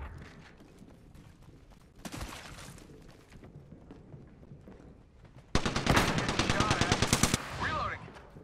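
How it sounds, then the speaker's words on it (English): Automatic weapon fire in the battle-royale game Apex Legends comes in a short burst, then a long, loud, rapid rattling volley with metallic mechanical clicks between the shots. "I'm getting shot at."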